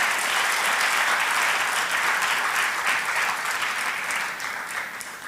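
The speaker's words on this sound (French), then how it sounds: "Est-ce qu'on peut applaudir le Seigneur, le Dieu d'Israël?" A church congregation applauding, dense sustained clapping from many people filling the room, steady and fairly loud before easing off slightly toward the end.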